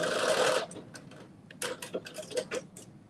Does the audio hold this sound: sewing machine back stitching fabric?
yes